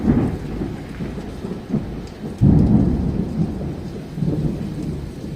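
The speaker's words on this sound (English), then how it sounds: "I love thunderstorms." A thunderstorm with hail rolls in close by, steady rain hissing throughout while deep thunder rumbles and a heavier crack swells midway, all without voices.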